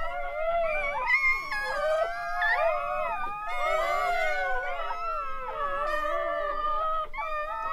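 Newborn Rottweiler puppies, one day old, from a litter of ten, cry in a dense overlapping chorus of high, wavering squeals and whimpers, close and continuous.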